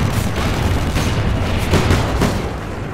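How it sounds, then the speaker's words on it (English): Rapid, dense gunfire with heavy booms fills a Call of Duty Modern Warfare 2 multiplayer match, continuous and loud for several seconds without letup. "They just randomly shooting at me now."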